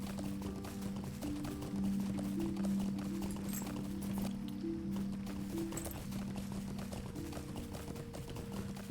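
Horse hooves clip-clop in the game LOTRO, a quick, even run of hoofbeats over a sustained background drone and hum, moderately quiet and continuous.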